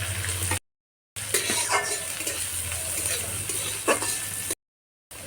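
Onion, ginger and green chilli fry in oil in a kadai, a close steady sizzle with occasional stirring scrapes, cut by two brief silent gaps.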